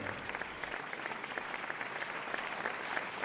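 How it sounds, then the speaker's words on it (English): An audience gives a brewery a big round of applause after a win. The clapping is steady, dense and continuous, heard from some distance with no talking over it. "let's give another big round of applause for Beaver"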